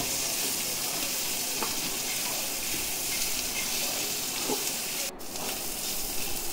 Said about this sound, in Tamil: ஒரு 5 to 10 minutes கோவக்காய் மட்டும் வதக்கி எடுத்துக்கலாம்